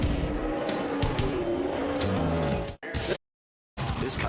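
A NASCAR Camping World Truck Series truck does burnout donuts after a race, its engine roaring and tires squealing continuously and loudly before cutting off abruptly into silence, then resuming.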